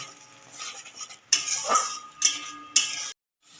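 A spoon stirring and scraping masala as it sautés in a pan for Bengali katla fish curry, with soft sizzling under a few sharp metallic clinks and scrapes, close and alone.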